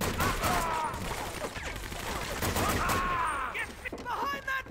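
Bursts of gunfire in the Medal of Honor: Vanguard video game, with dense overlapping shots and battle noise throughout. A player's voice is heard over it.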